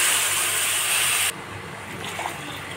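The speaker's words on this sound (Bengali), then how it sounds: "এবার আমি পরিমাণ মতো গরম জল দিয়ে দেব।" Hot water pours steadily into a pan of Bengali rui fish curry with a loud, hissing gush that cuts off abruptly, leaving a quieter simmering hiss behind.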